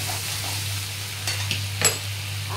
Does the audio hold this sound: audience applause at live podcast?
no